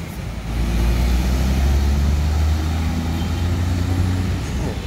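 A well-kept 1990s Hino RN 340 bus idles with a smooth, steady low rumble that holds even and unbroken from start to finish.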